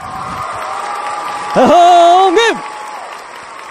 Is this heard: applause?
yes